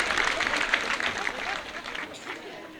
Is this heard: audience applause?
yes